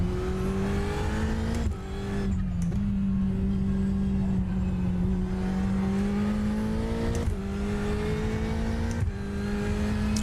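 A Ferrari 488 GTE race car engine in the iRacing simulator at Sebring holds a loud, steady, buzzing drone, its pitch sliding up and down through brief gear shifts and throttle lifts, with no voices over it.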